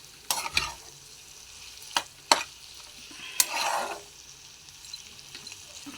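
Food is stirred and mixed in a frying pan over a soft sizzle, with several sharp utensil scrapes and clacks against the pan and a brief louder frying surge near the middle.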